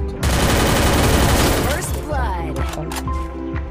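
Rapid bursts of gunfire crackle in a Free Fire clash squad match, loud and dense at first, then thinning into scattered shots while someone talks over the game.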